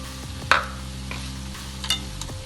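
Beetroot poriyal with peanuts and coconut being sautéed in a pan: soft background sizzle with a few sharp spatula scrapes and taps against the pan, close by and without speech.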